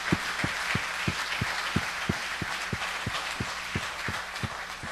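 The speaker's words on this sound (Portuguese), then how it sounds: "Você pode aplaudir o Senhor por isso?" Church congregation applauding during a worship service, rhythmic unison clapping at a steady beat over a softer background of scattered claps.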